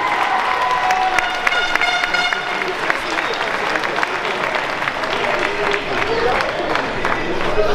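A boxing crowd applauds two boxers after their fight, sustained loud clapping mixed with cheers, shouts and hubbub, with voices and a faint horn-like tone over the steady crowd noise.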